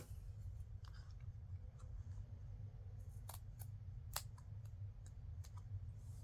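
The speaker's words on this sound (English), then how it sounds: "Okay, I might have to trim just a little." Scissors trim a paper file folder insert, making a few faint, scattered snips and clicks over a low, steady background hum.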